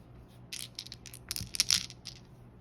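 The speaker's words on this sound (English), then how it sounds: "Now we can put all of our little dice in" Small gaming dice dropped into a crocheted drawstring bag, a quick cluster of soft clicks and clatters as they tumble together, close and alone.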